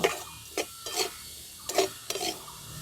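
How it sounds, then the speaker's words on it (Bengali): Fried chickpeas being stirred through sugar syrup in a pan for a Dol Jatra sweet, with several distinct scraping strokes of a spoon against the metal, alone and close, between short pauses. "এই চিনির সঙ্গে খুব ভালো করে আমি উল্টে পাল্টে মিশিয়ে নেব"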